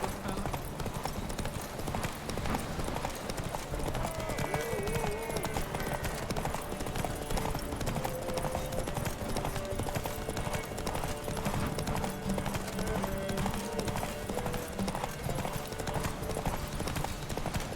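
Horse hooves clip-clop steadily in The Witcher 3: Wild Hunt, a continuous trotting rhythm under game music and a voice talking.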